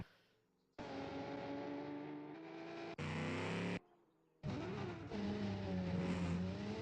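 Engine of a BMW race car in BeamNG.drive during 1980-era AI race practice, a steady loud racing drone with abrupt cuts and gear changes and a brief tire squeal, with no voices.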